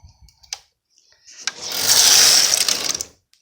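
SK150/SK155 knitting machine carriage sliding across the needle bed in one loud, close mechanical whirring pass of about a second and a half, preceded by a few small clicks.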